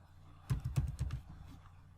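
A short burst of a few close keystrokes on a computer keyboard, soft and quick, then quiet.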